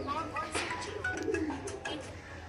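Lambari pigeons coo in a soft, low, repeated murmur that runs steadily through the whole stretch, with a faint voice-like sound mixed in around it.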